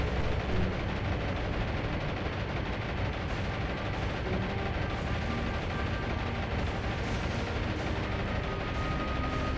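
Continuous roaring wash of explosions and anti-aircraft gunfire as bombs hit ships during the Battle of Midway in War on the Sea, loud and dense without pause, with no talk.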